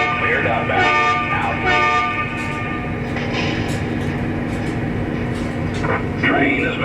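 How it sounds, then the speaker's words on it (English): A model train pulls away on a home layout, sounding a short horn toot over a steady electric hum and rolling rumble, with radio-style dispatcher chatter heard over it. "Train is moving, dispatcher."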